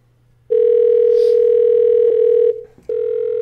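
Over a phone line, a loud, steady telephone tone holds for about two seconds, breaks briefly with a few faint clicks, then resumes while a call is being placed, with no voices.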